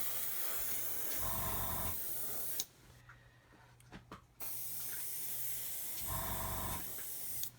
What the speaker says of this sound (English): I don't normally spray at the bench.